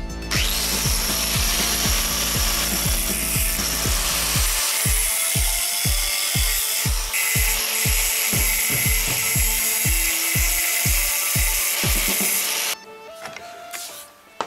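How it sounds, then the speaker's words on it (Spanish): A small angle grinder fitted with a thin iron-and-steel cutting disc works metal for a replica crocodile folding knife, giving a loud, steady high whine broken by fast rhythmic pulsing before it cuts out near the end. "Voy a utilizar un disco fino de cortar hierro y acero y voy a trabajar con una radial pequeña"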